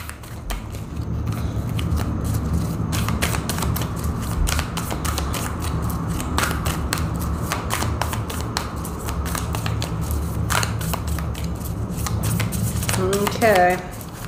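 Tarot cards are shuffled steadily up close in a dense, crackling, riffling patter that runs throughout, ending with a quick flurry of snaps, while a low hum sits underneath.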